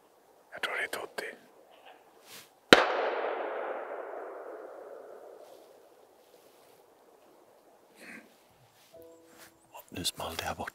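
A single sharp shotgun shot cracks out at a distance during a roe deer hunt, its report rolling away over several seconds, with faint whispered voices before and after.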